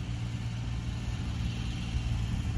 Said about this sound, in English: Sorry if you can hear the tractor in the back.